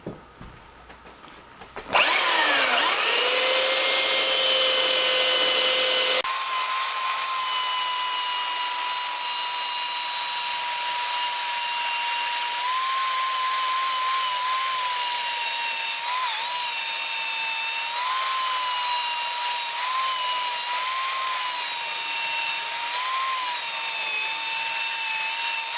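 A 4-inch angle grinder runs steadily while sharpening the blade of a utility fighting knife, a loud continuous high whine with slight pitch wavers as the blade is worked, starting up after a brief quiet moment.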